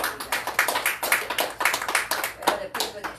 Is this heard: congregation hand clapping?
yes